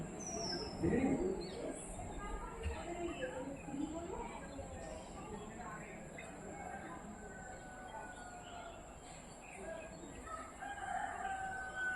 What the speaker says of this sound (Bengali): মুরগিটা মারপিট করছে দেখুন বন্ধুরা